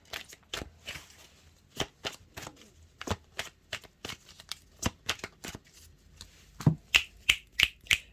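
A deck of tarot-style cards is shuffled by hand in a quiet room, giving a series of close, crisp riffling snaps at a steady, unhurried rhythm that quickens near the end.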